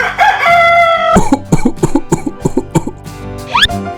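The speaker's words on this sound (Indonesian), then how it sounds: "Aku berkokok dulu ah." A rooster lets out a loud, drawn-out crow up close, which breaks off into a series of sharp, coughing bursts and ends with a rising squawk.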